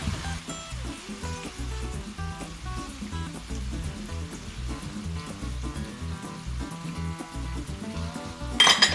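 Spicy gambas al ajillo shrimp frying in a hot pan, a steady dense sizzle running throughout with a louder burst of crackle near the end.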